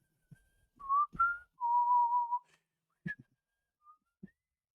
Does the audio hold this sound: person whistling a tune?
yes